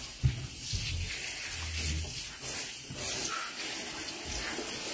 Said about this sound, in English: That's why I recommend the OPAWZ recirculator, because it definitely saves water, saves time, and it saves the product.